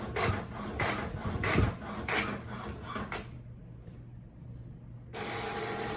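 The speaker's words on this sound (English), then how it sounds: "And then you can see that my printer is printing." Home printer printing planner pages, a run of rhythmic mechanical strokes and rolling paper-feed rasps, close, then a brief quieter lull before a steady motor whir resumes.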